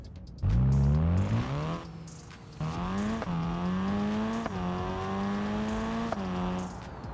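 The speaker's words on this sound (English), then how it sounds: "I like the loud turbos, especially on a hood exit variant" A loud turbocharged car engine with a hood-exit turbo in the video game BeamNG revs up and holds a high, whining drone, shifting pitch a few times, with no other sounds over it.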